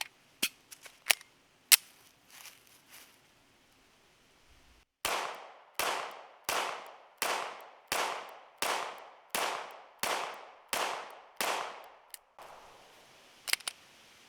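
An HK USA CC9 pistol fires a string of about ten evenly spaced, sharp loud shots from a 10-round magazine, preceded by a few scattered clicks and handling clacks, with a couple of metallic clicks at the end.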